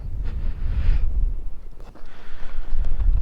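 Strong gusting wind buffets the microphone outdoors on ice during winter fishing, a loud low rumble that swells and dips in waves.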